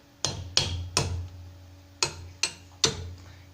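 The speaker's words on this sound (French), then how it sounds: "on va taper un coup avec un marteau" Hammer tapping a part into place while assembling a freestyle scooter, six sharp close metallic knocks in two groups of three, each ringing briefly before fading into quiet.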